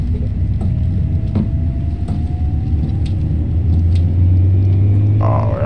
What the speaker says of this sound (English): Why I still hear the car?